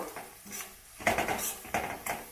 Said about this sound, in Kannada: ಎಲ್ಲದನ್ನು ಹಾಕ್ಕೊಂಡು ಮಿಕ್ಸ್ ಮಾಡ್ಕೊಳ್ತಾ ಇದ್ದೀನಿ